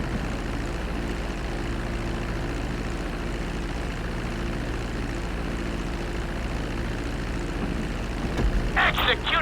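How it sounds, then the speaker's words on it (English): A fixed-wing airplane comes in to land on a runway in the GTA V video game, its engine a steady, loud drone, with a brief sharp burst right at the end. "Be sure to deploy the landing gear before you reach the runway."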